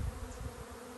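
A swarm of honey bees buzzes around a bait trap, a dense, continuous drone of many wings, fairly close and steady, with no talking.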